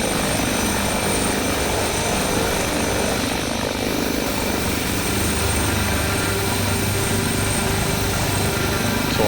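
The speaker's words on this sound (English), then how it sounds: "Unfortunately, the sounds in this helicopter are pretty, should I just say, awful." A helicopter's engine and rotor in a flight simulator video game drone loudly and continuously, a dense, unbroken whine and thrum with no voices over it.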